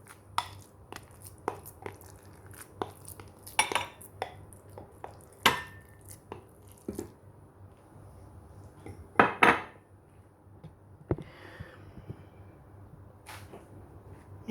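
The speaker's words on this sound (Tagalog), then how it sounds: "Tapos tong ating kanin, isalin na natin dito sa plato." Metal utensils clink and scrape against a plate and pot while cooked sticky rice is spooned across, sparse sharp taps and scrapes with quiet pauses between them in a home kitchen.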